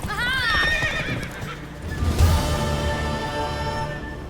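A horse in The Witcher 3: Wild Hunt whinnies loudly with a rising, quavering call, followed by a second snort and neigh, with hooves shuffling nearby.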